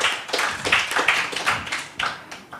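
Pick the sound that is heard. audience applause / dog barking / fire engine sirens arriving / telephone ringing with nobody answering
audience applause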